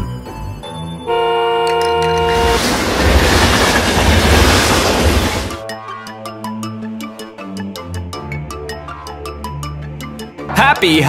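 A train rumbles past with a loud roaring burst, followed by rhythmic clacking and tonal chimes, like a toy or animated train sound.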